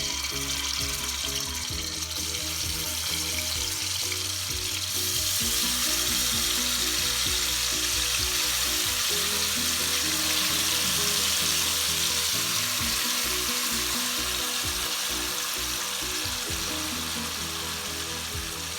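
Pork browning in very hot oil for Panamanian arroz con puerco gives a loud, steady, dense sizzle that continues without a break for the whole stretch, with no talking.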